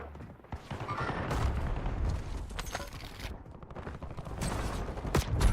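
Dense video-game gunfire in a riot-shield shooter match, with bursts of automatic fire, sharp cracks and booming shots layered continuously at mid to close range, a loud crack near the end.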